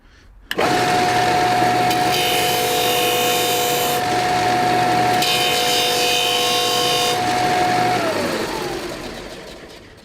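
Axminster AC200BDS belt/disc sander grinding a bevel onto a piece of wood: motor starts abruptly, then a loud sustained abrasive rasp with a steady tonal whine, swelling as the wood is pressed in, before winding down.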